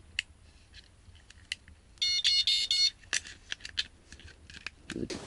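A smoke detector being tested at a winter fishing camp sounds four loud, shrill beeps in quick succession, surrounded by quieter clicks and handling noises.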